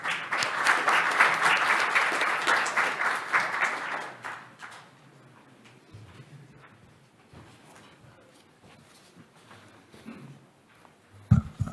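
Audience applause welcomes a National Assembly member of the People Power Party to a policy debate on legislation for eco-friendly ESG transport. Dense, loud clapping fills the hall for about four seconds, then fades to faint room noise and scattered sounds.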